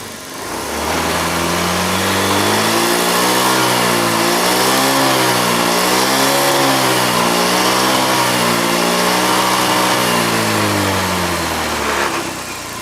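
A Honda BeAT FI scooter engine, checked for a battery charging fault, revs steadily for several seconds with a smoothly rising and falling pitch. It is loud and close, with no talking.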